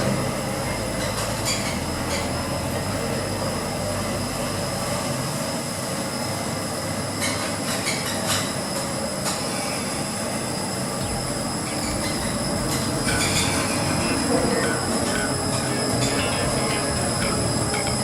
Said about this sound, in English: only the left hand lift goes up to the car park level. So let's ride it. Going up.